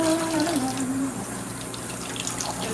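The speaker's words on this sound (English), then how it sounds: "Just letting the hot water do a little bit of my job first." Hot water runs steadily from a kitchen tap into a sink during fridge cleaning, a close, continuous broadband rush; a brief tonal whine sounds near the start before the flow settles.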